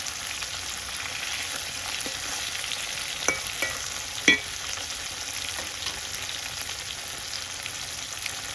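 Hilsa fish fries lightly in a pan, giving a soft, continuous sizzle close by with a few brief clicks and taps of stirring, no voices present.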